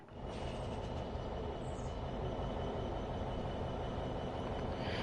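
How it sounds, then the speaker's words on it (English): Steady low rail rumble with a faint hiss of train brakes releasing in Train Sim World 6, constant and moderately loud throughout with no talk over it. "Brakes are releasing on the train still."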